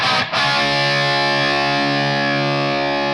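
A sustained, heavily distorted electric guitar chord through the IK Multimedia Brownsound 78/79 amp simulator rings out loud and thick, holding steady after a brief dip at the start.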